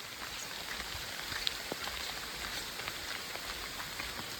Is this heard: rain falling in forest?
yes